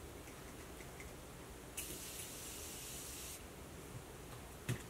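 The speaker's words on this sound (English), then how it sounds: "I forgot to spray it. Let's just do that." A short hiss of spray, about a second and a half long, stands out over a quiet, low room hum, with a faint tap near the end.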